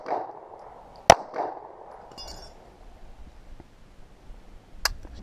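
A Walther P99 pistol fires two sharp, loud reports about four seconds apart, each a crisp crack with a brief ringing tail, over quiet background.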